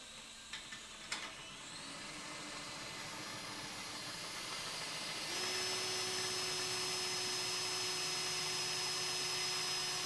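A drill widens a hole in a wheel rim to 11mm while fitting a GEN2 TUBliss system in a tyre workshop, giving a steady whining hiss after a few sharp clicks and a rise in pitch midway, with no talk.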